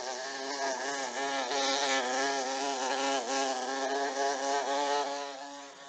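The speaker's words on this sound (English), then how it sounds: "Insects, like this bee, help to pollinate the flower." A bee buzzes steadily and close by near a flower it is pollinating, a continuous droning hum with a slightly wavering pitch, loud and alone throughout.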